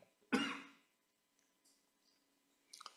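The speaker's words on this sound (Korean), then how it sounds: "왜 자꾸 이렇게 기침이 나지?" A single loud, close cough bursts out, followed by near silence with faint small noises and a brief throat sound at the end.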